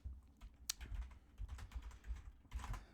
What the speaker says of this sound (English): Just gonna type that in, rampant growth.